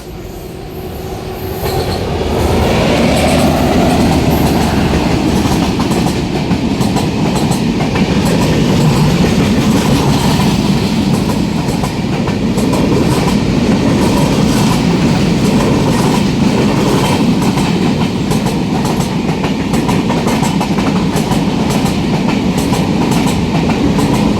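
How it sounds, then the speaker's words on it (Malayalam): A train passes at a railway station at night, loud and close, with a continuous rumble of wagons, rhythmic clatter of wheels over rail joints and some wheel squeal, building up over the first seconds and then staying steady, with no talking. "പോകേണ്ട അടുത്ത ട്രെയിൻ വരുന്നുണ്ട്"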